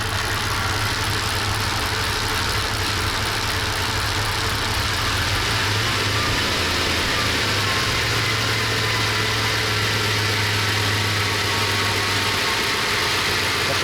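An Audi A8 engine idles on gas with a steady, close, continuous rumble and a low, even hum throughout, and no other sounds are present.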